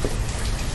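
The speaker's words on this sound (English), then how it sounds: "The rain is far from ideal." Heavy rain falls in the city-building video game Banished, a dense, loud, steady hiss of rain that fills the whole brief moment with no talk.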